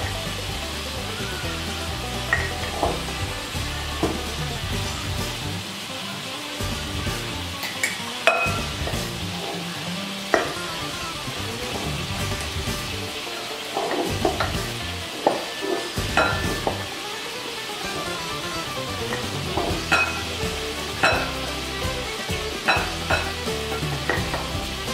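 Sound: stirring milk in a saucepan while scalding

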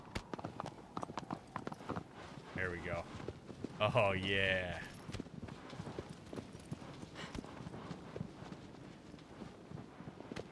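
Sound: horse hooves clip-clopping, from the video game Shadow of the Colossus

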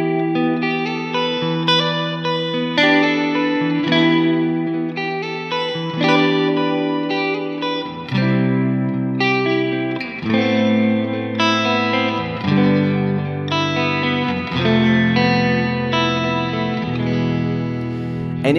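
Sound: guitar through plate reverb with light modulation

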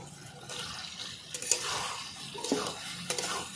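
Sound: stir-frying boiled taro with spices in a pan

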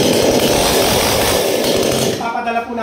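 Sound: chainsaw running

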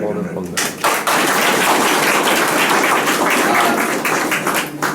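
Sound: audience applause

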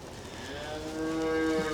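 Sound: cow mooing

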